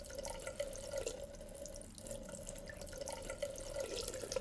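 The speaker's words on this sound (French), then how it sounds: "J'ouvre le robinet. L'eau commence à couler." A tap in a Teletubbies cartoon runs with a faint, steady stream of water and soft splashing, continuous for a few seconds.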